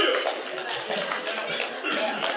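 Applause from a church worship-night congregation after a finger-foods announcement, a steady, moderately loud wash of clapping lasting throughout with faint chuckles mixed in.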